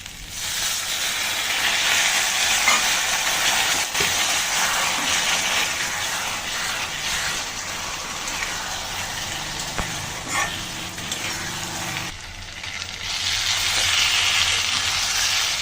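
Dal and spices fry and get stirred in a pan, a steady loud sizzling hiss running continuously with faint scrapes and ticks of stirring, no talking.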